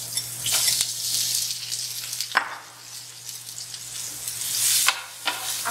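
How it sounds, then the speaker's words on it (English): Zucchini sizzles in heated olive oil, a loud, bright, hissing fry that swells and eases as the pieces are stirred, with a couple of sharp scraping clicks. "we're going to start off by adding our zucchini to some heated olive oil"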